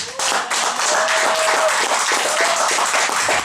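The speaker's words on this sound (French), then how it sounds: "Est-ce qu'on peut acclamer pour nos jeunes?" An audience at a church service claps loudly for its young people, dense continuous applause with scattered whoops and shouts of cheering near and full throughout.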